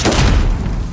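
A claymore goes off in Call of Duty: Modern Warfare as one loud, close blast, a heavy booming burst that fades over about a second, with no talk.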